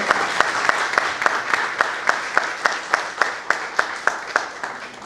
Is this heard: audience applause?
yes